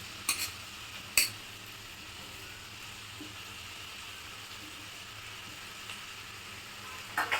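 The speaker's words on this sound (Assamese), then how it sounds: "তাৰপিছত এতিয়া মই ইয়াত এই মছলাত শুখা শাকখিনি দি দিম।" Dried sour Assamese herb is stirred into a spice paste for fish curry, a soft steady sizzle running throughout, punctuated by a few sharp spoon clinks at the start and end.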